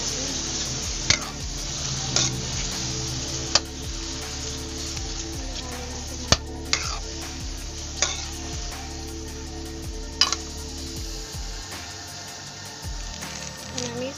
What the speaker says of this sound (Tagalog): Halo-halo naman po natin.